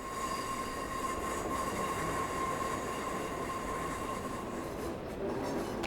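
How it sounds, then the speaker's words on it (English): A second train rumbles past in Train Simulator 22, its steady, loud rolling drone filling the whole stretch with a faint high tonal whine above. "Oh, another train."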